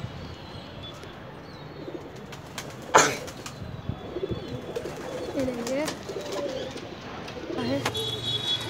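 A pigeon caught and held in a cage, its soft cooing calls repeating amid outdoor background noise, with a sharp clatter near the middle and voices talking faintly around it.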